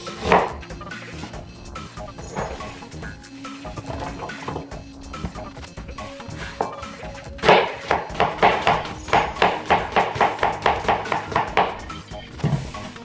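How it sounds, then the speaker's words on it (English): A knife chops small onions and a large red onion into strips on a cutting board, with a quick run of sharp, evenly spaced knocks in the second half after slower, scattered cuts. "Chop our small onions in half. Our Big Daddy red onion here. Take them into strips."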